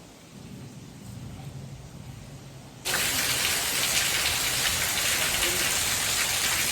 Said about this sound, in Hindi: अभी से जोर से बारिश होना चालू हो चुका है।